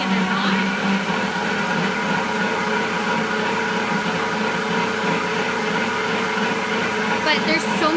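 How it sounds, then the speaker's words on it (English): A Deluxe Cooking Blender whirs steadily as it blends oat milk in a kitchen, a loud continuous motor hum with a rising whine near the end, while someone talks over it. "I hope you can hear me over the blender."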